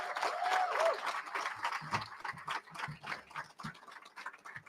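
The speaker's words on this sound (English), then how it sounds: "Would you please just give them a round of applause?" Scattered clapping from an audience at a prison reentry graduation ceremony, fairly faint and uneven, with individual claps standing out as the applause thins.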